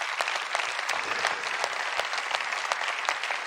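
Audience applause at a church talk, many hands clapping in a brisk steady patter, fairly near and even, with individual sharp claps standing out through the short stretch.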